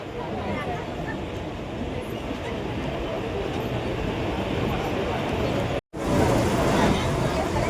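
A large train passes through a station in Mumbai with a continuous heavy rumble and rattle for several seconds. Crowd babble runs underneath, and the sound briefly cuts out near the end.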